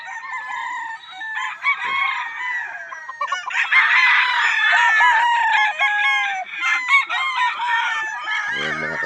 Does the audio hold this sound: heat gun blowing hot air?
no